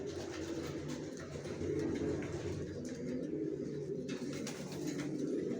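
Young original racer pigeons coo continuously in a crowded loft, their layered throaty calls overlapping steadily at close range without pause.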